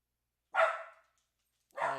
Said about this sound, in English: That dog is really starting to irritate me.